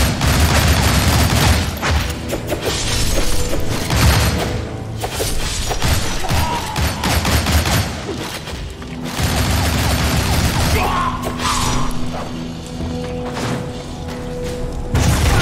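Gunfire bursts and thudding impacts fill a scene in the action video game Shank, loud and dense, with booms, shattering and mechanical clatter layered under game music and effects across the whole stretch.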